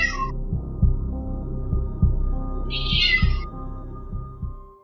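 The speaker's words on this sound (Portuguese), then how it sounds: "mostrando o seu gato miando loucamente" A cat gives two loud, close meows separated by a few seconds over a low throbbing hum with a slow pulsing beat underneath.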